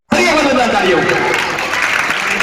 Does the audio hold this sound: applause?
yes